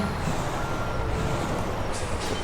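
Heavy truck hauling a trailer in American Truck Simulator, its steady engine rumble continuous throughout with a faint high reversing beep near the end.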